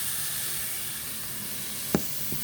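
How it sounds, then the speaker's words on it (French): Onions frying in a pan for pork filet mignon with old-style mustard, a steady soft hiss of sizzling with one brief clack near the end, no talking. "c'est de faire revenir les oignons"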